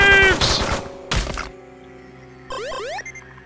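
Gunfire shooting graves in the video game Megabyte Punch, a loud cluster of impacts and blasts up front that cuts off sharply, followed by quieter electronic sweeps and chirping game effects, no voices.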